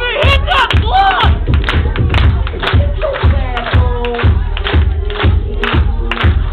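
A concert crowd at a show claps in a steady, even rhythm, loud and near, with music and shouting mixed in throughout.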